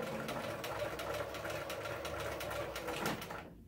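Sewing machine stitching around a zipper on a fashion accessory, a fast steady mechanical whirring hum with rapid needle knocking, close and fairly loud, stopping abruptly at the end.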